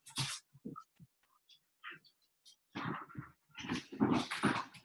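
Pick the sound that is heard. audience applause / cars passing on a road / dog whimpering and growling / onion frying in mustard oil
dog whimpering and growling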